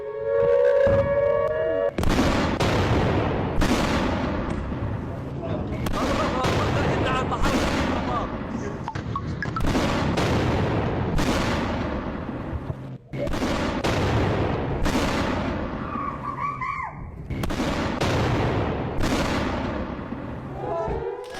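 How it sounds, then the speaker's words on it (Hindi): Fireworks and firecrackers go off in a celebration in Iran, a dense run of loud sharp bangs and booming blasts, some crackling, in clusters separated by brief pauses. "ईरान में जश्न मनने लगा, दिवाली मन रही थी, पटाखे छोड़े जा रहे थे, आतिशबाजी हो रही थी ईरान में"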